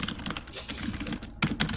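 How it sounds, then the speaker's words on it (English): Computer keyboard typing on a call during a group discussion, a run of quick clicky keystrokes at close range with a short pause before a couple of sharper final taps. "You're typing something."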